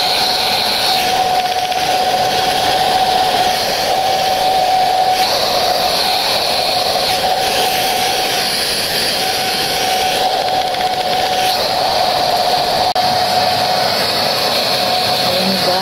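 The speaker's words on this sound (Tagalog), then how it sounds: "ita-dry naman natin yung ating buhok." A hair dryer blows on hair, a close, loud, steady whooshing drone that holds almost unchanged throughout with slight surges, and no talking.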